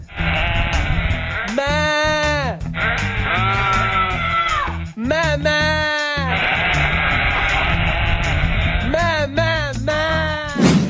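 Sheep bleat loudly and repeatedly at close range, with several long wavering calls overlapping against a steady background of outdoor noise.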